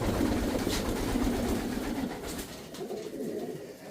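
Adana pigeons cooing in a loft, soft low throaty coos rolling close by over a steady background hiss, with no talk over them.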